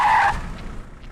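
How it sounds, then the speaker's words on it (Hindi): An enemy's car skids to a stop with a sharp, loud tire screech lasting a fraction of a second. A low engine rumble fades behind it. "दुश्मन की गाड़ी।"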